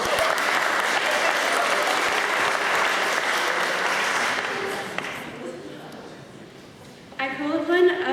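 An audience at a school debating grand final claps in steady, full applause that gradually thins and fades out, and a speaker's voice begins just after it ends.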